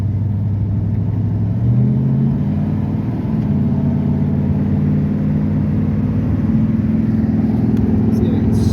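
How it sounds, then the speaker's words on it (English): A 1969 Plymouth Fury with freshly reworked suspension and exhaust rumbles along on a test drive, its mid-pitched engine droning steadily up close with a brief rise in revs early on. "Let's take this old bucket of bolts for a ride quick."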